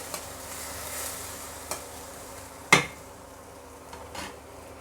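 Chopped onion and tomato frying in a pan for chilli chicken give a faint, steady sizzle, with a sharp utensil clatter midway and a few lighter taps.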